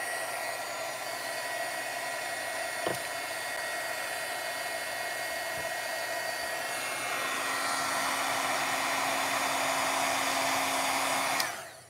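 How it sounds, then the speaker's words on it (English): Heat gun blowing steadily as it melts glitter embossing powder, a continuous loud whooshing hum with a motor whine that rises in pitch near the end before switching off abruptly. "I'm going to make sure my heat gun's nice and hot."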